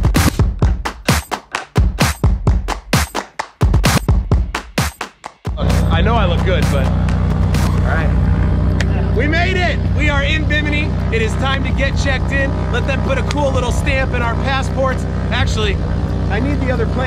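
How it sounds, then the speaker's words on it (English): A van ride on the way to a ferry in Bimini, a steady loud engine and road rumble with chirpy squeaks, following a few seconds of sharp thumps and knocks. "Just finishing up the van ride over."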